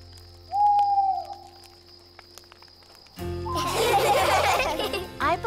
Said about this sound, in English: believe Mrs. Owl said, "Hoo, hoo, hoo, time to go into the tent and get ready to sleep